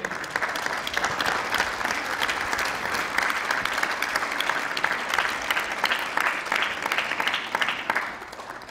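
Senators applaud in a parliamentary chamber, a sustained, dense round of clapping that stays steady throughout and tapers slightly at the very end.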